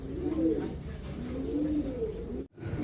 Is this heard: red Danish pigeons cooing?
yes